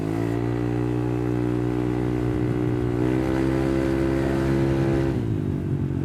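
Modified Fiat Uno car engine running, a loud, steady droning idle close by, with the pitch rising briefly as it revs and then settling back down.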